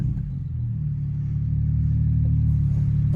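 A BMW N54 engine's aftermarket exhaust on a test drive, a steady deep droning rumble from inside the moving car that swells slightly louder toward the end, with no talking.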